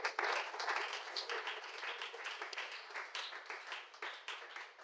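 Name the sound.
congregation applauding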